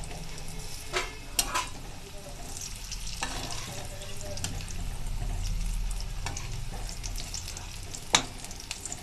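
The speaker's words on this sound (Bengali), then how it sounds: "এবারে এরকম একটু নেড়ে চেড়ে এটাকে ক্রিস্প হওয়া অবধি ভেজে নেব।" Drumstick leaf pakoras, an Odisha-style starter, sizzle quietly in hot oil while being stirred and turned, with several sharp clicks and scrapes of a utensil against the pan over the soft frying hiss.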